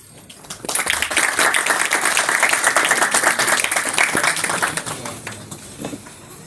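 Loud, dense clapping from an audience at a Grade 11 and 12 school presentation swells up after a brief quiet start, holds strong for several seconds, then thins out toward the end.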